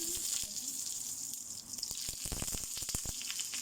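Lemon leaves sizzling as they hit hot olive oil in a frying pan, a steady close crackle with sharper spitting pops building toward the end, no talk over it.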